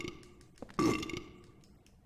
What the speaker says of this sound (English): I hit the bitch and she burped.